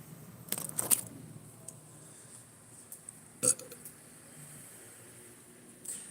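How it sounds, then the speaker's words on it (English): A person burps loudly in short bursts, a few sharp eructations spread across a quiet indoor background with no talking. "I've always been able to burp a lot"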